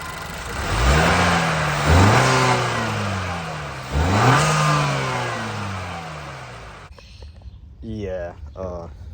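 A 2021 Honda Accord 2.0T with a PRL stage 1 intake revs up loudly three times, each rising pull dropping back before the next, then settles toward idle while people speak briefly near the end.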